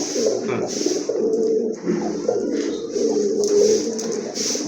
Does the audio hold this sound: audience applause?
no